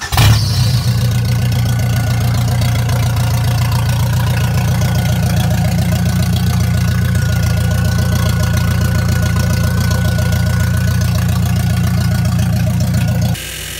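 A 1995 Jeep Wrangler YJ with the 2.5L four-cylinder engine runs with a newly installed header, a loud, close, steady idle with a rough, knocking edge that continues unbroken until it cuts off near the end.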